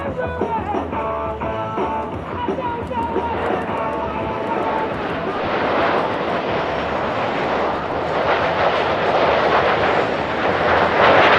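US Navy Blue Angels jets in diamond formation roar loudly and steadily past at the 2022 Thunder Over Dover air show, the engine rumble swelling toward the end, with a voice talking over it.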